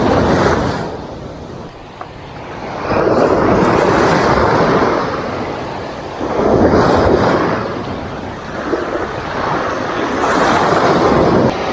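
Ocean waves breaking and washing up on a shore during shore casting for fish, rising in three broad surges that roll in loud and close with steady wind and surf hiss between, no talking.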